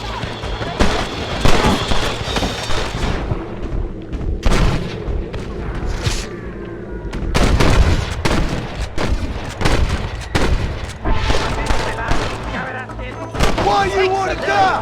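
Continuous gunfire in Red Dead Redemption's New Austin chapter, a dense run of loud cracks and booming shots under scattered voices.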